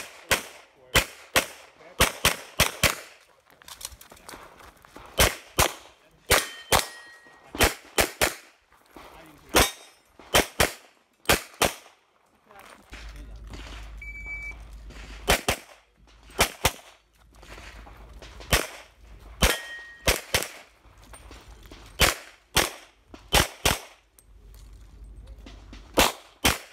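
Rapid gunshots at the Extreme Euro Open 2019 practical shooting match, sharp close cracks in quick strings with pauses for reloads, steel popper targets clanging among them and a faint tone between strings.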